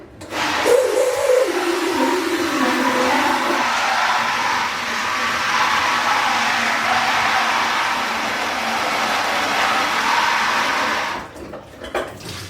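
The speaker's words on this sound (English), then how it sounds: "this is just a bottle washing gadget that I picked up from the U-Brew" A bottle washing gadget sprays a rinse through wine bottles during home winemaking, making a continuous gushing, hissing rush of water that runs close by for about ten seconds before cutting off abruptly.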